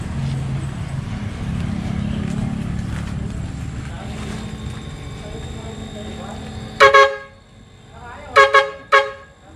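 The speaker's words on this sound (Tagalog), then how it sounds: "Lakas ng busina sir ngayon. Parang truck siya ngayon mga kabisyo." Three loud, sharp honks from a car's newly fitted air horn, truck-like, ring out near the end, following a long stretch of steady engine rumble.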